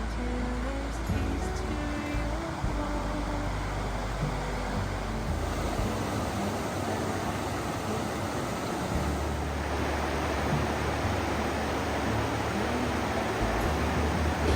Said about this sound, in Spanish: Escucho ruido de agua, parece que hay una pequeña cascada o algo así.